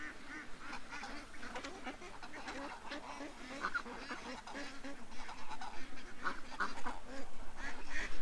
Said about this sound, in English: There's some happy ducks.